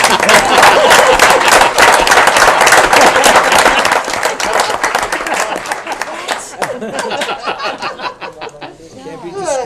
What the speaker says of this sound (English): Okay, round of applause for everybody.